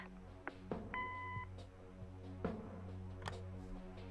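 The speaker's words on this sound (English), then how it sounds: "Leave a message after the beep." A single short electronic answering-machine beep from a phone in the game Kathy Rain, sharp and clear over quiet background music, with a few soft clicks around it.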